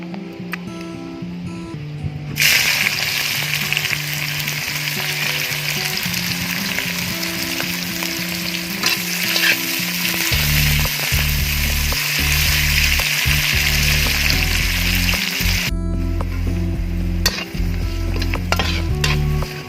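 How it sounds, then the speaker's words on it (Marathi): Steady loud sizzling of onion frying in very hot oil in a kadhai, with occasional stirring scrapes and clinks of a utensil against the pan throughout. "कढईतलं तेल कडकडीत तापला आहे तर चला आता आपण कांदा टाकून घेऊया"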